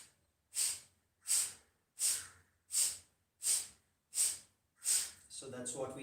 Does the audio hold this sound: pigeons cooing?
no